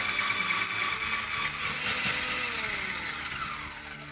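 An electric blender whips egg and sugar into a thick foam for coconut cheese pancakes, a steady loud motor whir running throughout and easing slightly toward the end.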